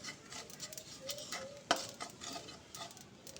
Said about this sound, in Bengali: পোস্তটাকে আমি একটু হালকা করে ভেজে নেব